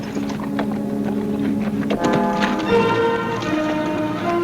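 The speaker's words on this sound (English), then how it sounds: "The outlaw's horse." Horse hooves clip-clop in a steady trotting rhythm, moderately close, mixed with a faint background hum and rumble.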